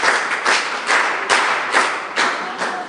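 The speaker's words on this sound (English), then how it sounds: "Let's clap for them." A small group claps at a school digital club gathering, the claps coming in short rhythmic bursts that rise and fall roughly every half second, with no talk.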